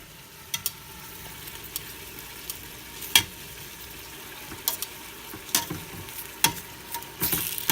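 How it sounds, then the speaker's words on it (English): Meat browning in a pan for a Sunday tomato sauce with onions and garlic, a low steady sizzle broken by scattered sharp clicks and scrapes as pieces are flipped, fairly quiet and with no talking. "All right, so now my meats are browning."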